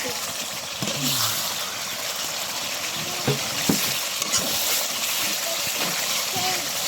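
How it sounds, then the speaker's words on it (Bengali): Potatoes sautéing in oil in a pan, stirred and turned with a large spatula, giving a steady broadband sizzle with occasional scraping knocks, while a voice speaks intermittently nearby. "ভালো করে কষাই নিব।"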